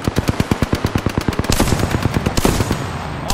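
Automatic weapon fire in the video game Apex Legends: a rapid, loud burst of evenly spaced shots, then a denser stretch of overlapping gunfire and impacts.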